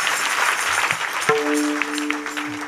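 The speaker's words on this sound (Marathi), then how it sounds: "एकदा जोरदार टाळी वाजवा महाराजांकरता" Audience clapping at a kirtan in honour of a visiting maharaj, a busy patter of hands that carries on throughout, joined midway by a sustained tonal note.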